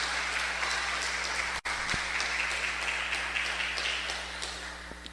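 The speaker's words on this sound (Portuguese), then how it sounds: "Pode aplaudir bem forte o nome do Senhor Jesus" A church congregation at a Pentecostal service claps together in a steady, moderately loud wash of applause that thins out toward the end, with a brief dropout partway through.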